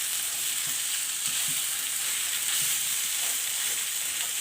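Potatoes being stirred into a frying mixture in a pan for a snack, with a steady broadband sizzle and faint scraping strokes underneath, close and continuous without talk.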